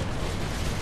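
Bombing explosion in the Red Alert 3 video game, a dense, loud, sustained roaring blast filling the whole short moment with no break.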